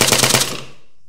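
Rapid automatic gunfire in the video game Altis Life, a loud burst of closely spaced shots for under half a second, then a fading reverberant tail.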